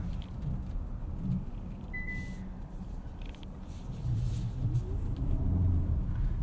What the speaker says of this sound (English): you can get your hybrid Hyundai to do nice donuts and have a slide